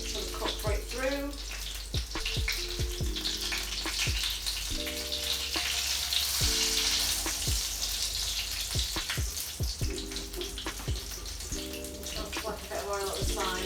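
Arancini rice balls fry in hot oil with a steady, bright sizzle and crackle throughout, while a person talks over the cooking.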